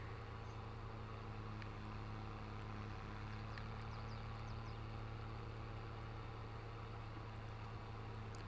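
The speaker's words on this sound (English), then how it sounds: "I'm an 88-mile-an-hour tractor." Tractor engine in Farming Simulator 23, a steady low droning hum running unbroken throughout at moderate loudness, with no talk over it.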